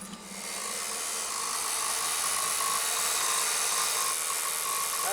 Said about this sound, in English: That injector don't sound very good.